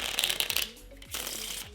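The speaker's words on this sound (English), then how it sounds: "So bridge shuffles, springs, everything like that, you're gonna wanna do them face up" A new deck of playing cards is bridge shuffled by hand, close up: a dense riffle rattle of cards flicking together, then a brief pause and a second riffle with soft cascading clicks.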